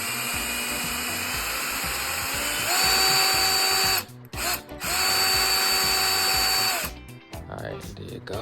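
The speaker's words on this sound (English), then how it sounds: "let's drill it in" Power drill driving screws into a wooden greenhouse frame, a steady whine that rises in pitch as it bites, stops briefly, then runs again before cutting out; close and loud, with no voices.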